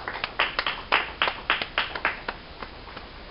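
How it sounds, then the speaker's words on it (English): A congregation claps hands at a church service, a quick run of sharp, fairly close claps in an uneven rhythm that fades out near the end, with no talking over it. "Y'all clap your hands and say amen."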